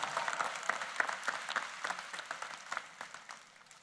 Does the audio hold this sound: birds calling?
no